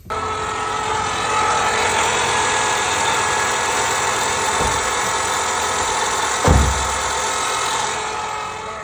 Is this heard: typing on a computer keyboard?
no